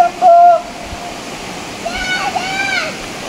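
Vasundhara waterfall at Bhandardara gives a steady, broad rushing roar throughout, with voices and excited exclamations rising over the water noise.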